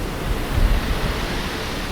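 Sea waves roll under a strong wind in a steady, full wash of surf and gusting air, continuous and even, with no voices.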